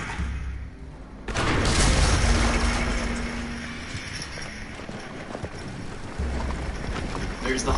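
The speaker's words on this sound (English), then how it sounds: "There's the horse from the rain." A horse's hooves clip-clop in the video game The Walking Dead, steady and moderately close, with a voice speaking partway through.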